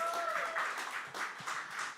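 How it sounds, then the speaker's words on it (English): Brief scattered clapping from a small audience at a livestreamed fundraiser showcase for performer LEENI, fairly soft and uneven, fading in and out over a couple of seconds. "Give LEENI another round of applause"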